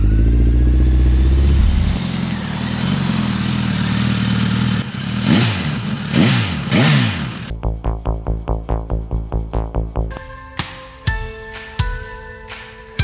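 A BMW S1000 GT Plus sports tourer motorcycle idles with a low rumble, then revs in a few rising sweeps before the sound breaks into quick clattering pulses and sharp clicks.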